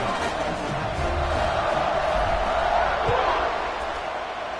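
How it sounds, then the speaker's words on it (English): Football stadium crowd at an Iowa State vs West Virginia game, buzzing steadily after a score, a dense, continuous roar of many voices at a distance with no distinct peaks. "this crowd is buzzing after that last score"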